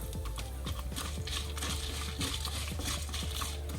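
Asafoetida dropped into hot oil with fried urad dal, crackling and popping in rapid irregular bursts over a steady low background, close and continuous, with no talk.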